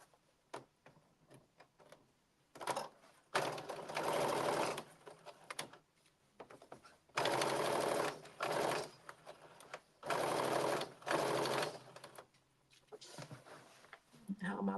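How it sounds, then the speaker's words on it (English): A domestic sewing machine stitches a blazer seam at a 5/8 inch seam allowance in several close, steady bursts of a few seconds each, separated by pauses and light handling clicks. "you're going to stitch using 5/8 of an inch"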